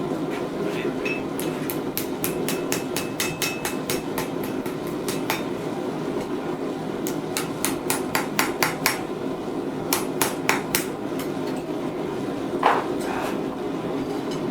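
Hammer blows ring sharply on a small metal leaf pendant at a blacksmith's anvil, coming in quick bursts of rapid regular strikes with brief pauses, close and loud over a steady background hum.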